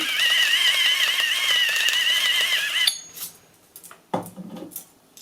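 A cauliflower salad with egg, salt and pepper is stirred in a bowl, with a few scraping, clinking strokes after a steady tonal hum cuts off, close and without talk.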